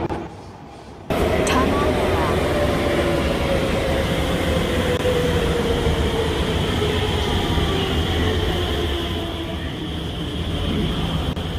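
Alstom IL-Series train in a Roblox rail game running between stations, a steady loud rumble of wheels and motor with a falling whine and a brief screech, preceded by a short quieter stretch, heard with no talking.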